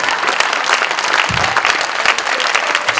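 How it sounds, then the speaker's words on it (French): Conference audience breaking into applause, a dense, even patter of many hands clapping at close range for a few seconds without pause. "Vous pouvez m'applaudir parce que je suis très fier de celle-ci."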